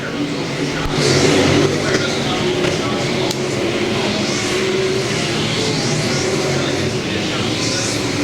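B-Mod race cars roar around Valley Speedway in a continuous loud engine wash, with a race announcer talking over the field throughout.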